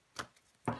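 Tarot cards are laid down on a table one after another, two soft brief slaps about half a second apart, close and quiet, with no talk.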